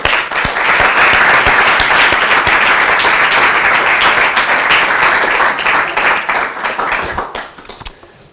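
A lecture audience applauds to welcome the speaker: dense, loud clapping from many hands that holds steady for several seconds, then thins out into scattered claps and fades.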